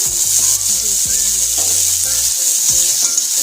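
Green chilies, dried chilies and coriander leaves hit hot oil already fragrant with fried nigella and carom seeds, giving a loud, continuous close-up sizzle with a few stirring scrapes and no talking.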